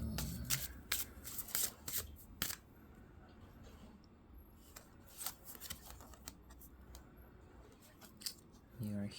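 Oracle cards being shuffled and drawn by hand, a run of quick papery riffles and slaps that bunch up early, thin out in the middle and pick up again near the end, with faint voice in the background.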